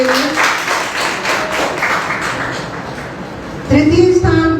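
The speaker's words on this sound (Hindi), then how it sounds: "एक बार जोरदार तालियां हो जाए सभी बच्चों के लिए" Audience applause for child poets at a Hindi Diwas school event, a steady crowd clatter that swells louder near the end as music or a tone enters.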